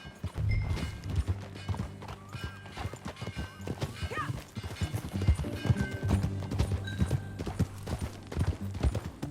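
Steady clip-clop of horse hooves trotting close by in a video game, with a horse whinny and background music layered over the rhythmic clatter.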